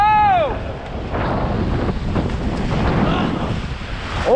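River rapids on a rafting trip in Rishikesh roar as rushing water and heavy wind buffet the microphone, a loud, continuous broadband wash with brief whistle-like tones at the start and end.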